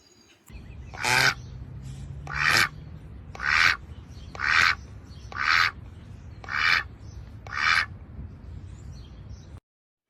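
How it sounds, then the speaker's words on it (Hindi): A duck quacks seven times in a slow, evenly spaced series, each call loud, nasal and close, with quiet in between. "इसे कहते हैं डक"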